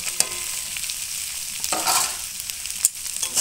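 Boiled pea lentils with spices, sugar and chili powder stir-fried in a pan for a Bengali dal chorchori, giving a steady close sizzle with occasional scraping stirs and no voices.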